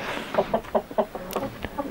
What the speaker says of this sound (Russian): Куры, утки. Достаточно много их.